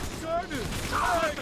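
Gunfire in the Bioshock 2 video game, a fast volley of shots crackling through the whole moment beneath overlapping game voices and shouting.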